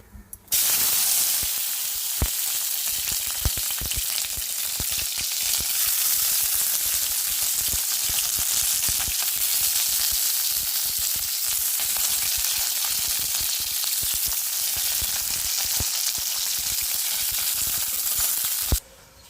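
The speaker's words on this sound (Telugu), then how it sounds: "అదే బండిలో ఆయిల్ వేసేసుకొని పచ్చిమిర్చి ఫ్రై చేసుకోవాలి" Green chillies frying in oil in a pan, a loud, dense crackling sizzle that starts abruptly and keeps up steadily, with rapid popping and spitting, close and unbroken until it cuts off.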